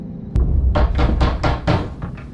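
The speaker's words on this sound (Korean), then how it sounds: "그때 문을 두드리는 소리와 함께 경광등이 반짝였고" Someone knocks on a door with a single sharp rap, then a quick series of five or six heavy knocks. The knocks are close and loud, with a low hum underneath.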